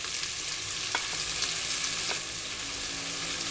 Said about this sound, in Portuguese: Aí aqui o alho já vai dourando. E junto com o alho nós vamos colocar a cebola